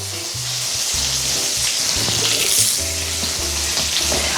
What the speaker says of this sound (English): I'm adding my potatoes. It's too much splatter.